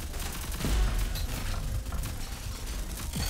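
Rapid gunfire rattles in a Hi-Rez Studios shooter video game, a dense, continuous burst of shots with mechanical clatter that stays loud and close for a few seconds.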